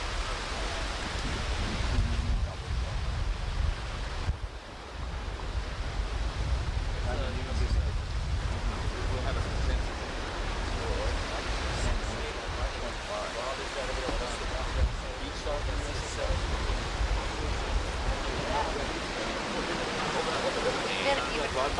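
Ocean surf at a beach roars in a constant broadband wash of breaking waves, steady and fairly distant with gentle swells in intensity and no voices.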